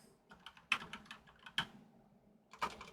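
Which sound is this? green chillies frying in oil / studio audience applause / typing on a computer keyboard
typing on a computer keyboard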